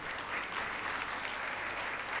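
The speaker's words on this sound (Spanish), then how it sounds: "Por favor, recibimos con un fuerte aplauso" Audience applause welcoming Dr. Abel González Galán to a biochemistry and pharmacy conference lecture, a steady dense clapping that holds evenly from start to finish and cuts off at the end.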